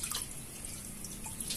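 Liquid batter dripping off dipped chicken pieces as they drain during home fried-chicken preparation, a faint, close trickle with small scattered drips over a steady low background.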